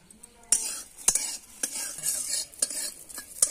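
Garlic cloves and green chilies frying in a pan under a soft sizzle, punctuated by sharp metallic scrapes of a spatula against the pan roughly every half second, close and fairly quiet, with no talking.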